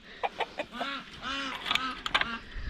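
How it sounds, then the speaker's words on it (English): Several laying hens cluck and squawk close by on a farm in short, overlapping bursts, with no talking. "we got our laying hens over here"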